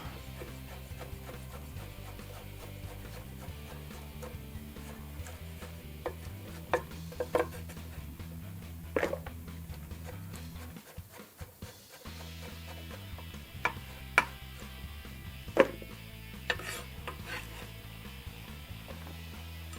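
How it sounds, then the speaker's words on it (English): Canned mushrooms being chopped with a knife on a board, a quiet, uneven series of sharp taps, some in quick runs and some spaced out, against a low steady background hum. "We're gonna chop it up."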